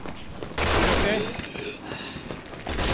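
Gunfire in Resident Evil 6 during a City Hall co-op stage, loud sustained bursts of shots packed together with a voice talking over them.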